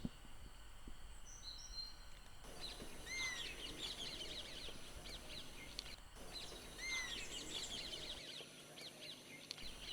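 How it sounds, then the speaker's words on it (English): Calls of an oriental honey buzzard in a tiger reserve backwater, repeated high whistled notes over a steady hum of insects and other distant birds, with a brief gap midway. "the backdrop sound, what you're hearing, it's a oriental honey buzzard."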